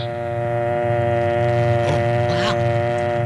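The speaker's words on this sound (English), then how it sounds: "Then remove the receiver and listen for the dial tone." A 1936 AT&T telephone dial tone, a steady, continuous hum heard alone and close, held unchanged for several seconds.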